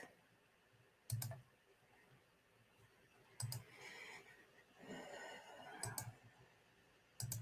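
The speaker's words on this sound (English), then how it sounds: "I know you're hearing a bunch of clicking." A computer mouse clicks on a desk during a live online chat: four short, sharp click bursts spaced roughly two seconds apart, close to the microphone and fairly quiet over a low room hush.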